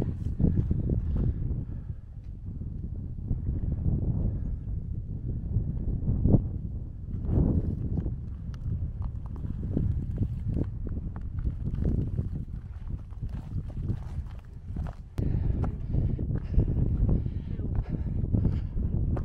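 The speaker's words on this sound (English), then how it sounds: "it's getting a bit breezy" Steady wind buffets a hilltop summit on the Stiperstones in the Shropshire hills, a constant low rumbling roar across the microphone with faint footsteps on rough ground and a few muffled voices.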